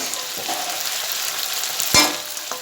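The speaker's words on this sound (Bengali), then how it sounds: "রসুন ক্যাপসিকাম দেওয়া হয়ে গেছে এগুলো ভাজা হচ্ছে" Steady sizzling of garlic and capsicum frying in a pan, broadband hiss throughout, with a sharp utensil clack near the end.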